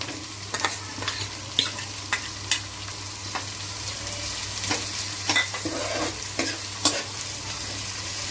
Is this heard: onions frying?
yes